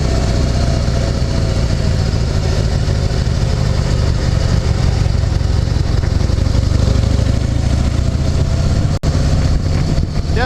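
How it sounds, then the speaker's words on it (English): A Harley-Davidson Heritage Softail engine rumbles loud and steady on a test ride, with a deep continuous throb, heavy wind noise and one brief dropout near the end. "test riding this Harley Heritage Softail"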